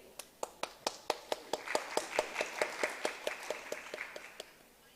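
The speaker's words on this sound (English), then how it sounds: "I would like to give a round of applause for our chief guests and panelists today" An audience at an international academic summit applauds its chief guests and panelists. The clapping is crisp and rhythmic, swells into a fuller burst of hands, then tapers away over a few seconds.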